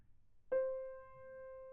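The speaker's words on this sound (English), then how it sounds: "I'm going to play some different tones for you." A single pure test tone from a hearing check starts abruptly and holds steady and clear at moderate loudness, with no talking over it.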